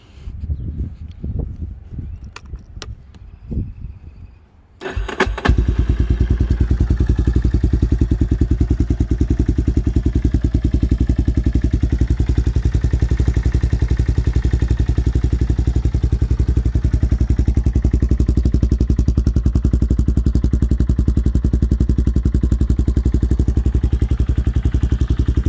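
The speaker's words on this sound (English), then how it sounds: "And we'll do a cold start." A 1999 Yamaha Warrior 350 ATV engine catches on a cold start after a few seconds of quiet clatter, then settles into a loud, steady single-cylinder idle that runs unbroken and close for the rest of the stretch.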